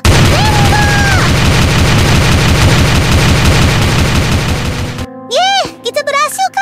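Rapid gunshots in the Sakura School Simulator mobile game, a loud, dense burst of repeated firing for about five seconds that cuts off into brief game sounds and speech.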